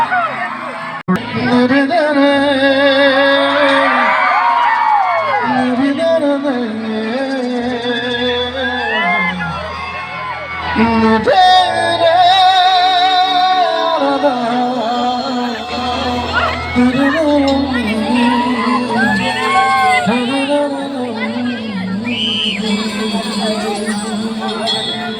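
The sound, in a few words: crowd applauding and cheering for the Assam police at a stage show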